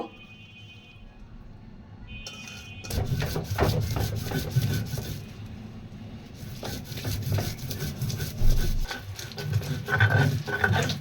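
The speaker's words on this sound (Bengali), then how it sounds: "এখন পেঁয়াজ রসুনগুলি বেটে নিব" Onion and garlic being ground by hand on a flat grinding stone, a steady run of rough rubbing and scraping strokes with occasional knocks, close and fairly loud, no voices.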